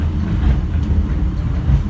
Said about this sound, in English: isn't this train ride like so awesome? Especially since we're going fast right now